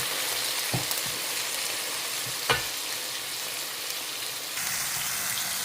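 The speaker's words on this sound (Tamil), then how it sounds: "தக்காளி வதங்கிக்கிட்டே இருக்கு கத்திரிக்காய் வெந்துருச்சு" Eggplant and tomato sautéing in a pan, a steady close sizzle and crackle with a couple of brief clanks of a spoon against the pan.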